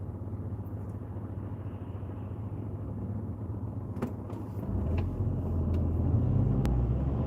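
A car drives past at night on a road in Wigan, giving a low, steady engine rumble that swells as it nears, with a few faint clicks and ticks inside the cabin.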